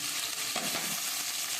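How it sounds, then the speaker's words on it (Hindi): Onions frying in hot ghee give off a continuous, close hiss and crackle, with a brief stirring disturbance partway through. "गोल्डन ब्राउन होने तक इनको फ्राई करूँगी"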